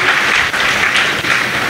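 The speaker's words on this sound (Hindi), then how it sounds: "मैं चाहती हूँ आप आदरणीय सभी एक बार स्वयं के लिए जोरदार तालियां बजा लें" Dense, loud applause from a poetry event audience in Banaras, a continuous wash of clapping that fills the whole short moment with no voices above it.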